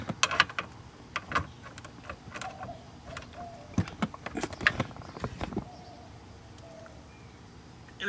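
A socket wrench ratchets in short bursts of sharp clicks while tightening a steel braided oil hose fitting on a C3 Corvette, close and fairly quiet, then falls silent.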